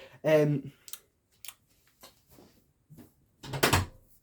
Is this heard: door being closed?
yes